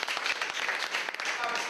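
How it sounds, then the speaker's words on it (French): Audience applause at a community solidarity gathering in Africa, a short, dense burst of many hands clapping with some voices mixed in. "Je vous prie de l'applaudir, s'il vous plaît."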